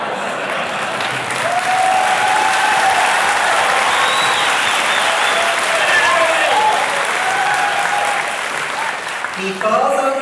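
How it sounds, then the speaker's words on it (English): A large audience at a Pensacon voice actor stage reading of The Princess Bride applauds steadily for about ten seconds, the clapping loud and sustained, with faint voices mixed in underneath. "gets a great applause from the audience"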